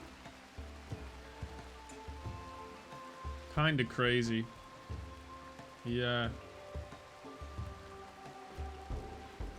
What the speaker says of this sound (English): But they won't go outside because of the psychic rain that's falling.